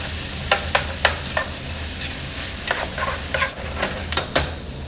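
Vegetables for keto jambalaya stirred in a hot pan, a constant close sizzle broken by sharp, irregular clacks and scrapes of the spoon against the pan.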